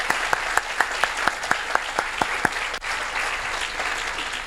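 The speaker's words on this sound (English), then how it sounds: "So let's give all of these folks a big round of applause again" An audience at a university bioengineering celebration applauds. Sharp, evenly spaced claps from one nearby clapper stand out at first, then blend into broad, sustained clapping from the whole room.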